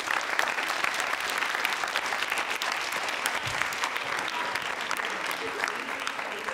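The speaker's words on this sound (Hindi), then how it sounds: "तालियां जोरों से साहब ये तालियां" Dense, sustained applause from a university quiz show audience for a contestant on a consumer protection quiz, many hands clapping steadily and loudly throughout without a break.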